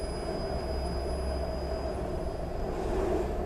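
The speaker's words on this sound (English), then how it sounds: "And the train is way different now." Steady rumbling of a train in the horror game Here They Lie, a continuous low rolling drone with faint high whines above it, constant and unbroken throughout.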